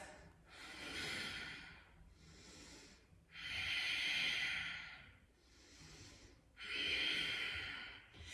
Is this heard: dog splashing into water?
no